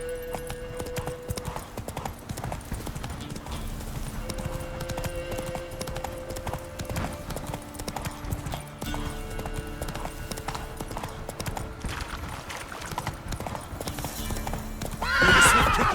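A horse galloping in The Witcher 3, with rhythmic hoofbeats, close and steady throughout, and a couple of neighs.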